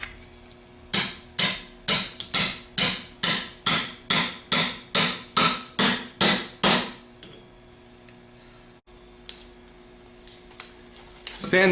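A rear bearing being hammered onto the shaft of a Bosch alternator during a rebuild: about fourteen sharp, evenly spaced metallic blows in a steady rhythm, close and loud, then the strikes stop and only faint workshop background remains.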